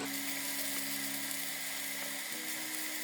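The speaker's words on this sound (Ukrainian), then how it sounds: "І тепер це все смажимо приблизно 5-7 хвилин" A soft, steady sizzle of onions and mushrooms frying in a pan, constant crackling hiss with a faint hum underneath.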